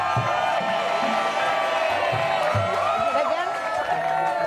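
Studio audience at an Indonesian comedy show cheers, whoops and claps for two contestants, a steady, loud crowd roar filling the whole moment with voices mixed in.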